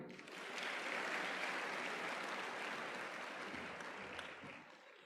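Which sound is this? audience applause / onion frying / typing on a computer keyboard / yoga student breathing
audience applause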